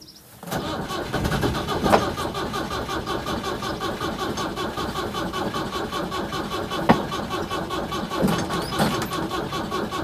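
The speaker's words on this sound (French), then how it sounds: "voir si cet engin redémarre normalement" A diesel engine with a weak, nearly flat battery is cranked to restart, producing a steady, mechanical churning that runs nearly ten seconds without catching, loud and close.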